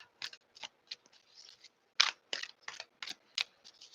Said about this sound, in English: And the shuffling is difficult because the cards they're not matte.